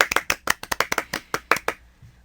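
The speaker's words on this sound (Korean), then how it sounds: "자, 지금 박수와 함께 시작하겠습니다." An audience claps at the start of a lecture in a brief burst of quick, fairly sparse claps that stops abruptly after about two seconds, with no speech over it.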